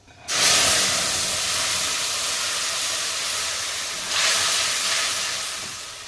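A ground spice paste hits hot oil already frying black cumin and dried red chillies for a fish curry, erupting in a loud, steady hissing sizzle that swells again midway as the paste is stirred.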